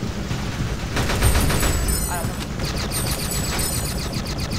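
Rapid game gunfire from the mobile shooter Shadowgun Deadzone rattles steadily across the clip, dense bursts under a constant layer of in-game noise with no clear pauses.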